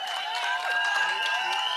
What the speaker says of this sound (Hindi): जोरदार तालियां राजपाल यादव जी के लिए।